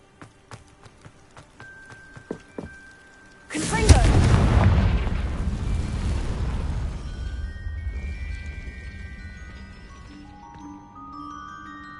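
Confringo fire-blast spell from a Harry Potter-style video game, a sudden loud explosive boom after some light footsteps and effects, trailing into a long rumbling roar with chiming magical tones as it fades.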